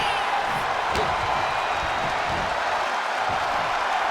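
A video game wrestling arena crowd in WWE 2K25 during Umaga vs John Cena keeps up a dense, steady roar of cheering and applause, loud and unbroken throughout, with no talking.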